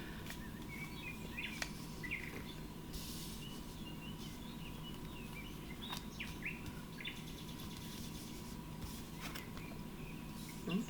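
Birds chirp and sing here and there over a steady outdoor background hum, with scattered calls near and far and no talking.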